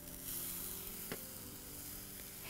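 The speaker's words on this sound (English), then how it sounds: "You can hear that sizzle." Skewered shrimp sizzle on a hot barbecue grill, a steady, soft hiss of frying with no speech and one small clack partway through.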